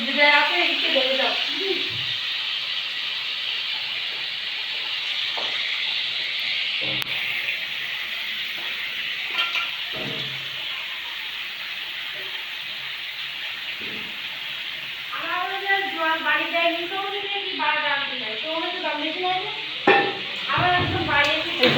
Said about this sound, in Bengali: এই যে খাসির মাংসগুলো কড়াইতে ঢেলে দিলাম, দিয়ে কিছুক্ষণ কষতে থাকবো।